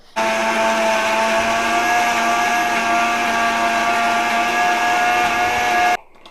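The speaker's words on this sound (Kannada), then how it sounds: "ಉಪ್ಪು ಎಣ್ಣೆ ಶುಂಠಿ ಬೆಳ್ಳುಳ್ಳಿ ಈ ನಾಲ್ಕನ್ನ ಹಾಕಿ ಚೆನ್ನಾಗಿ ಗ್ರೈಂಡ್ ಮಾಡ್ಕೋಬೇಕು" An electric blender grinds salt, oil, ginger and garlic into a paste, a loud, steady whine with a strong motor tone that runs for about six seconds, then cuts off abruptly.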